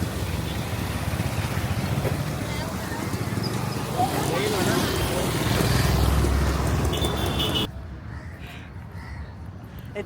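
Strong wind roars across the microphone alongside crashing waves at Gandhi Beach in Chennai, a loud continuous rush that drops to a quieter level toward the end.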